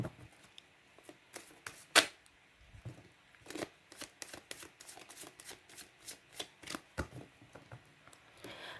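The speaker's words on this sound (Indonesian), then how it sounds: "saya kocok kartunya" Tarot cards are shuffled by hand: a run of crisp riffling snaps and soft taps, irregular at first then settling into a steady rhythm, close and quiet with no talk.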